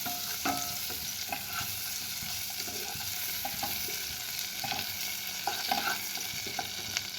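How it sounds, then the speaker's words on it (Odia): Garlic and ginger frying in hot butter in a pan, giving a steady close sizzle with light stirring scrapes and occasional clicks, and no voices. "ଏବେ ସେଥିରେ ରସୁଣ ଅଦାକୁ ପକାଇକି ହାଲକା ଭାଜି ନେବା।"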